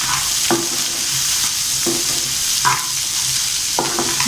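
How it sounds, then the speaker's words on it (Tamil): Chickpea sundal being stirred with ground masala powder in a pan, a spoon scraping in short strokes roughly every second and a half over a soft steady sizzle, close and fairly loud. "அந்த மசாலா பொடியை இதில் போட்டு போனோம்னா நல்லா வாசமாக இருக்கும்"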